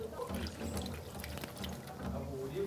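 Steady sloshing and trickling water as an endoscope cleaning brush is drawn through a basin during manual endoscope reprocessing, continuous and close, with faint running-water texture throughout.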